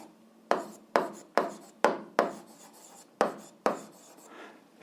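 A formula for speed is handwritten with chalk on a board in a maths lesson, giving about nine short scratchy strokes in uneven bursts, close and clear with no talk.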